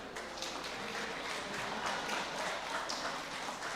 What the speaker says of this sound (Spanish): desen un fuertísimo aplauso, hermanos